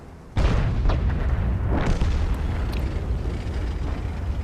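A loud booming blast from a T-30 tank gun firing in World of Tanks, with a sharp onset followed by a long rumbling roar and a second softer burst, alone without talk.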